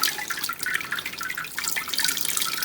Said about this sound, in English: So all we're going to do is just kind of lightly pour this water in.